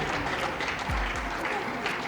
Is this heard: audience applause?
yes